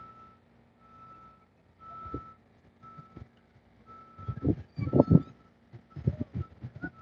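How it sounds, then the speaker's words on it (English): A truck pulls in at the SpaceX Starbase launch site in Boca Chica, Texas, its reversing alarm beeping in steady repeated pulses over a low engine rumble that grows louder and closer near the end. "And another truck just came in."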